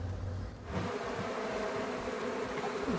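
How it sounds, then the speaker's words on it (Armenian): Steady, dense buzzing of many bees, continuous and fairly close, with a low rumble at the very start. "հասնեմ մեղուներիս։"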